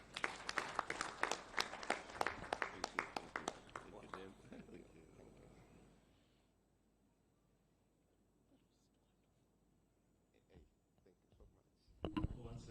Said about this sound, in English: Once again, let's give him a round of applause